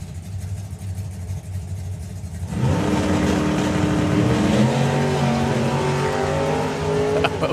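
An Outlaw Anglia drag racing car launches off the line at a drag strip, its engine roaring loud and close after a quieter idle, revving hard as it pulls away, with a brief tire squeal.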